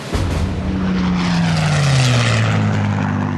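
A Supermarine Spitfire propeller-engined aircraft roars past close and loud, its engine drone sliding steadily downward in pitch as it flies by, with no voices.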